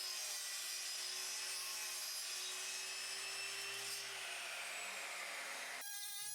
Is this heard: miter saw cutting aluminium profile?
yes